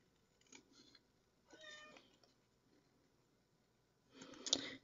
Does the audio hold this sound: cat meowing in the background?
yes